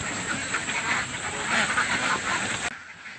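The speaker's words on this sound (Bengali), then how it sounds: "হাঁসগুলো এককালে গড় গড় করে টলারে উঠতে যাইবে" A flock of ducks quacks and honks in a dense, overlapping clamour as they crowd aboard a trawler boat, close and busy, ending with a sudden drop to quieter background noise.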